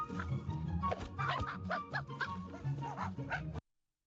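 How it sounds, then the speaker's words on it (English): Two AI-generated puppies playing soccer on the moon yap and bark in quick, bright bursts for about three and a half seconds before the sound cuts to silence. "two puppies playing soccer in the moon"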